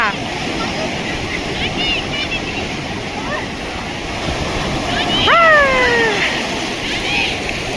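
Surf at Pakala beach rolls in as a loud, steady roar of breaking waves, with a brief high wavering cry and distant voices rising over it.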